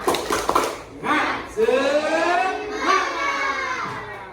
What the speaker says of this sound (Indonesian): Nah ayo kita tepuk semangat dulu ya